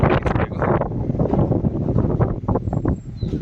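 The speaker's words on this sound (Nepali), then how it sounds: "एकदमै हावा चलिरहेको छ आज।" Strong wind gusts across the terrace of a house under construction in Ghoom, Darjeeling, on an afternoon, a loud, rough roar buffeting the microphone throughout.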